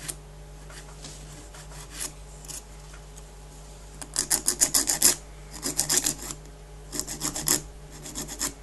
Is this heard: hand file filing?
yes